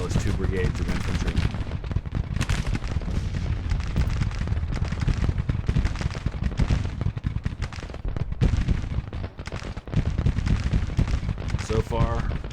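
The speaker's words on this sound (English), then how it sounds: "I'm a little worried about Lyle being under artillery fire" Artillery and gunfire boom and crackle continuously in the Grand Tactician Civil War game, with dense overlapping shots and blasts across the whole stretch, loud and unbroken.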